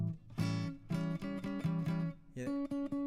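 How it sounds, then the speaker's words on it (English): A dominant seventh chord without a third, strummed and picked on guitar, heard as several close, ringing chord hits in a loose rhythm with short gaps between them. "So the dominant 7 of the same thing would sound like this."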